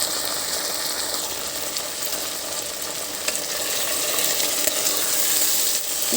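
Boiled green peas sizzling in a pan with spices, a steady bright crackling fry hiss with small pops and occasional stirring clicks, close and continuous.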